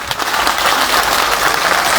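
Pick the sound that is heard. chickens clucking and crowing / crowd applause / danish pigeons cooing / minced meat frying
crowd applause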